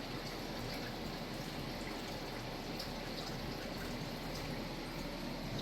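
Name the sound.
water flowing through the plant cups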